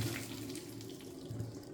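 Spicy boiled shrimp are drained into a sink, a steady rushing pour of water into a colander that lasts under two seconds, close and moderately loud with no voices.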